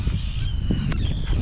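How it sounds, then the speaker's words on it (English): An oystercatcher calls in brief, high, piping notes from a rock offshore of an island off the Irish coast, over steady wind and low rumble, sounding distant and thin. "The oyster catcher sounds nice."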